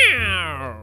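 A cat character in a Minecraft story gives one loud, close meow that slides downward and fades out.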